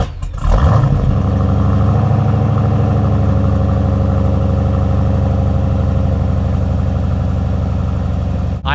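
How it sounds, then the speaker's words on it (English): Honda Integra Type R engine firing up from cold, a starter crank followed by a steady, loud, throbbing fast idle that holds close and unbroken for the rest of the clip. "But of course, I'm going to do another cold start. I love firing this thing up."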